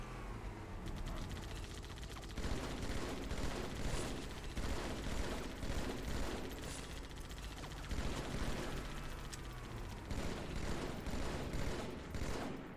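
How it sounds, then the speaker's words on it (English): Sustained turret gunfire in Halo 2 Anniversary during co-op play, a dense, continuous stream of rapid shots with pulsing bursts and mechanical clatter running throughout, loud and close. "I'll just let you shoot in the turret and then I'll move up, shoot with the BR."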